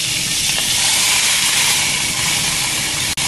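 Meat sears on a hot pan beneath a heavy cast iron press, giving a loud, steady broadband sizzle and hiss that runs continuously with one brief dip near the end.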